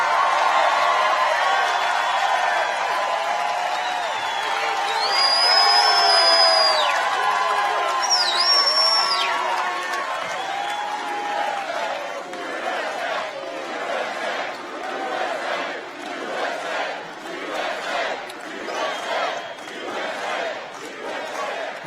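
A huge crowd at a Trump political rally in Panama City Beach, Florida, roars, cheers and chants loudly for about twenty seconds, the noise later breaking into rhythmic, pulsing chanting.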